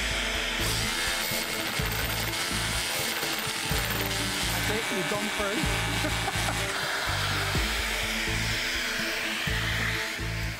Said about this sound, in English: She's tried her hand at drilling.